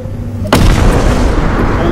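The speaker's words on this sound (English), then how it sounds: "I just got blown up by a little atom bomb." A small atom bomb explodes in a video game with one sudden, loud, close boom, followed by a rumbling roar that stays loud to the end.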